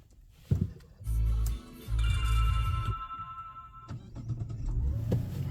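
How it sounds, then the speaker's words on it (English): A Mazda CX-90 Turbo S engine cranks and turns over with a short mechanical whir, then settles into a low steady idle, with a few small clicks and whines nearby. "Let me start this up again"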